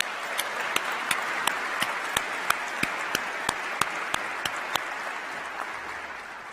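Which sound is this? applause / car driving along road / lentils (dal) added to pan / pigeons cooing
applause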